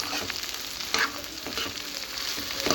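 Okra stir-fry for a Tamil-style vendaikkai poriyal being tossed in a pan, with a constant close sizzle broken by soft scraping and stirring strokes and a couple of louder clinks.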